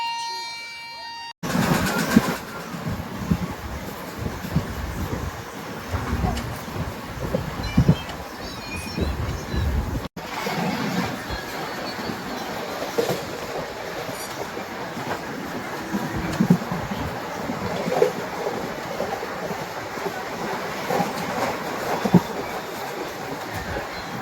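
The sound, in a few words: train running on rails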